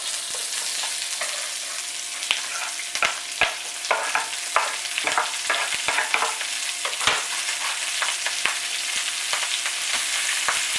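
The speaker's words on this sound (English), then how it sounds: "So throw these suckers in the pan. Watch out, because it's going to pop." Brussels sprouts fry in a pan of bacon fat with a steady sizzle, broken by frequent sharp pops and spatters, heard close up with no talking.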